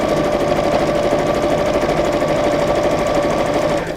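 A sewing machine runs steadily for about four seconds, its loud, even motor hum and rapid stitching continuing without a break until it slows at the very end.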